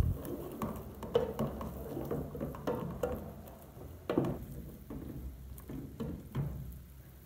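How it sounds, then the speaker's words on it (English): Dried tilapia mixture stirred in a pot, irregular soft scraping and thudding strokes repeating every second or so, close and fairly quiet without speech. "I need to mix this very well."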